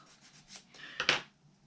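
A wooden part of a UGears Flight Starter mechanical model kit is sanded in a few short, close rubbing strokes, the last pair louder and scratchier.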